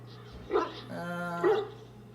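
A dog in the fantasy game Dragon Age Origins barks twice, with a longer whining, tonal yowl between the two sharp barks, all close and clear over a low steady game hum.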